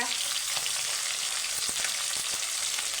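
Onion and slit green chillies fry in hot oil with a fish head, giving a dense, continuous sizzle with a few quick stirring scrapes.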